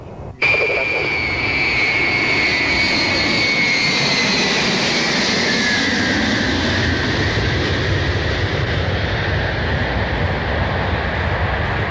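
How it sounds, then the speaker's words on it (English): A heavy Aeroflot airliner taxis toward a corporate air hangar, its jet engines holding a loud, steady turbine whine and roar after a sudden start, with shifting tones as it rolls. "The huge plane taxied to a stop in front of the corporate air hangar."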